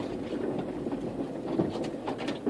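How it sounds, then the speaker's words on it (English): SUV rolling along a rough dirt back road through the bush: a continuous rattling, bumpy cabin rumble with clattering from the chassis, steady and moderately quiet from inside the vehicle. "I'm driving through the bush as we speak. It's it's one of his back roads here."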